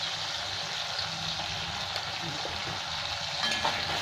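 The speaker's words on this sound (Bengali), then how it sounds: "এটাকে একটু ভালো করে ভেজে নেব।" Ginger paste, Kashmiri chilli powder and cumin-coriander powder fry in a pan for a tomato fish curry, giving a steady, even sizzle with occasional soft stirring sounds.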